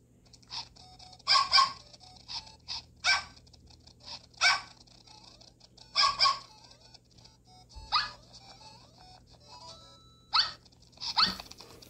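Several puppies yapping in the Nintendogs game on the 3DS, with bursts of high, squeaky barks repeating every second or two over a steady low hum, with no talking.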